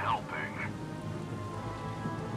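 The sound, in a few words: rain in video game Valkyria Chronicles 4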